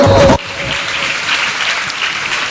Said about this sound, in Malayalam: നല്ലൊരു കയ്യടി കൊടുക്കുക